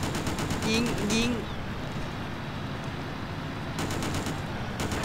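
Rapid automatic gunfire from the video game Just Cause crackles in quick bursts at the start and again near the end, over a steady droning game background with a bit of speech-like tonal sound early on.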